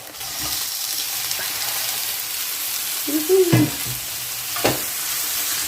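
Beef frying in rendang paste is stirred in a pan over medium heat, a steady hiss of sizzling under scraping spoon strokes and a couple of louder clunks, close and alone.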